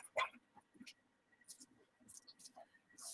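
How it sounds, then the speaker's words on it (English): A dog indoors gives a short, soft bark followed by scattered yips and whimpers, fairly close but quiet, with faint whispery voices and household sounds around it. "That's my dog talking."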